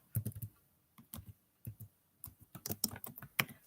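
Typing on a computer keyboard: quiet, close key clicks in short irregular bursts with small gaps between them, and no voices.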